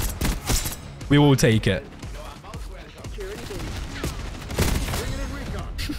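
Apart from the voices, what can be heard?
gunfire in video game Black Ops 6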